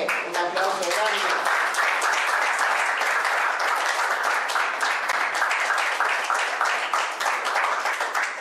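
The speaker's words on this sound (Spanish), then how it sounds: "Un aplauso grande." Loud, sustained applause from a crowd, dense clapping that keeps going evenly, with a brief voice at the start.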